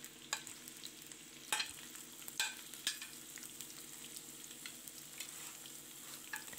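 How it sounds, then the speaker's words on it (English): Onions frying in oil in a sufuria for wet-fry fish masala, a steady close sizzle with sharp scraping clicks of stirring at intervals, no voices. "We have our oil inside our sufuria, and we're going to go in by adding our onions inside our oil"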